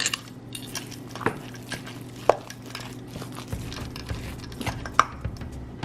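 Meatball mixture mixed by hand with a cup of grated cheese in a bowl, soft squelching and scraping with occasional sharp clinks of a utensil against the dish, steady and close with a low background hum.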